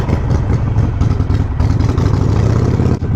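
A motorcycle with a Hammer Performance 1250 conversion engine runs at a steady, loud roar while being ridden, its throbbing low exhaust note continuous and close, with no talk over it.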